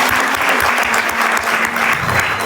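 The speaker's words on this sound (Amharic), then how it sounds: "አጨብጭቡላቸው።" An audience at a home-ownership prize ceremony breaks into dense, continuous applause for the full stretch, loud and close, with a faint steady hum underneath.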